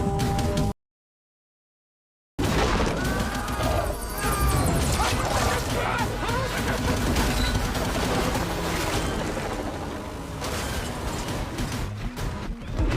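Loud, relentless automatic machine-gun fire from a helicopter in a film, with crashes and booms, continuing for several seconds after a short silence.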